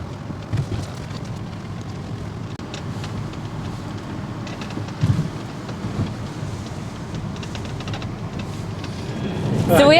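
Steady rain and wind noise fill the clip, a broad constant wash with brief gusty swells and a rise near the end, on mainland Scotland.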